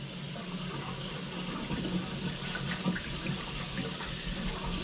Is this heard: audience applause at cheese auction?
no